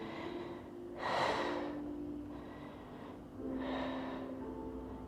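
Two deep, audible breaths during a Pilates back and leg strength class, each a soft rushing inhale-exhale swelling and fading over a steady low background hum, close and unhurried, no talking.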